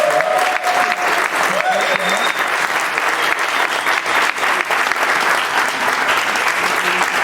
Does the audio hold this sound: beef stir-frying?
no